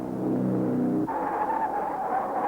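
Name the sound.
race cars at the 1953 Swiss Grand Prix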